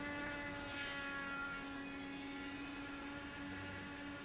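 A struggling race car engine in an IndyCar racing video game gives a thin, steady, high-pitched drone, buzzing like a model plane, with no voices.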